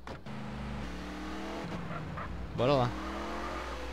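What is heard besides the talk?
car driving in video game GTA San Andreas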